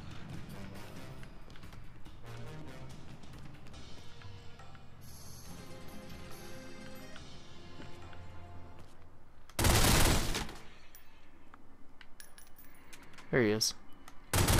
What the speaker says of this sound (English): I thought I heard a guy shooting a shotgun